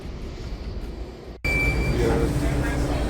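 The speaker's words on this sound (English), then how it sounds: "This is the Blue Line train." A Washington DC Metro Blue Line train rumbles along, then a sudden cut brings a louder, harsher rolling roar with squealing tones from wheels and rails, steady and close throughout.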